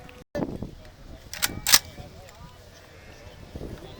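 Sharp cracks from a Browning-designed First World War rifle, fired at an outdoor WW2 weekend event: two quick reports around mid-clip, the second louder, over low background murmur and voices.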